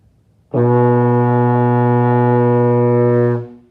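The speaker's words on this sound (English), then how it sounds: "you're going to make that same sound into the baritone" A single low brass note on a euphonium, blown steady and full for about three seconds, then released cleanly.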